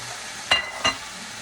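Tomatoes drop into cooked-down vegetables in a caldero pan, giving two quick close sizzling bursts over a steady low hiss.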